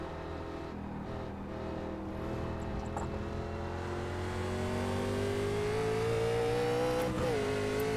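A NASCAR Legends car in the iRacing game, racing at Silverstone, drones with a steady engine tone whose pitch climbs as it accelerates, then breaks with a quick gear shift near the end, continuous and fairly close.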